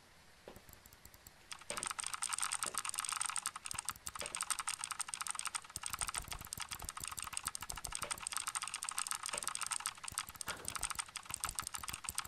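Steady, fast computer keyboard typing with frequent key clicks, close and continuous for most of the stretch after a brief quieter start, heard alone without speech during a Phasmophobia gaming session.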